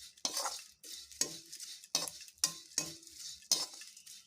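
A spoon scrapes and tosses flattened rice dry-roasting without oil in a hot kadhai, with about six crisp, rattling stirring strokes in an uneven rhythm and quiet pauses between them.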